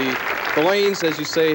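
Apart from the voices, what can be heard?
bowling tournament crowd applauding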